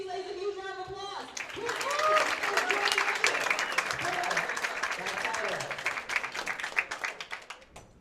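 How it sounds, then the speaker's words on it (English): Audience applause for women bowlers at the PWBA Great Lakes Classic finals bursts out after an announcer speaks, a dense patter of clapping that swells, then thins into scattered claps near the end. "Please give these ladies a huge round of applause."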